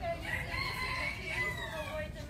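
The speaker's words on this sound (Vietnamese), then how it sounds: "Thanh Bình nghe tiếng gà gáy." A rooster crows in a Cần Thơ garden, its long rising call stretching across the whole moment, fairly close and clear over a steady low background hum.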